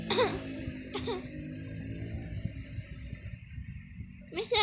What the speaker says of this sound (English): Do you always cough when you get nervous, Mrs. Woods?